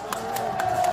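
Rally crowd outside the National Election Commission cheering and clapping, with rhythmic bursts of claps over a steady roar of voices, loud and close.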